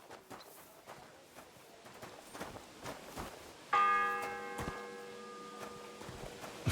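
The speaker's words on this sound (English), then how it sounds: "The fourth bell." A church bell in the video game Kingdom Come Deliverance 2 strikes once, loud and close, after a few soft footsteps. Its bright, ringing tone then slowly fades over several seconds.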